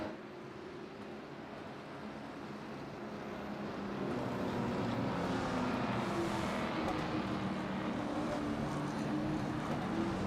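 Field of race cars circling the asphalt oval at New Smyrna behind a pace car in an Elite Seniors Racing Championship event, a steady broad engine drone that swells slightly midway and holds at a moderate distance, with no talk.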